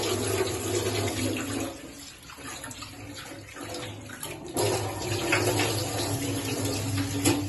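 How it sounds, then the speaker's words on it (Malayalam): Water sloshes and splashes steadily as rice is swirled and rinsed in warm water, a continuous close wet churning with an electrical hum behind it. "ആ ചൂടായി വരുന്നതിൽ നല്ലപോലെ നമ്മള് അരി കഴുകുക"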